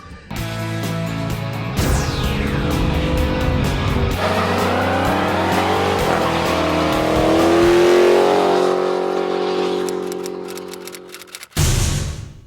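A 2016 Chevy Volt spins its wheels in about four inches of snow while being pushed, with a loud electric motor whine that rises and falls alongside tire squeal and a final burst of slush.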